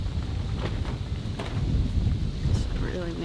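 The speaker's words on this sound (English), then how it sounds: "it's really windy" Low rumbling wind buffets the microphone in gusts, with faint rustling and a few brief clicks on top.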